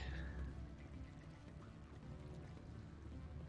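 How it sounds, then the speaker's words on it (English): Flowing water in the Mass Effect video game, a soft continuous pouring and trickling wash, faint and steady, with no speech over it. "Good water sounds."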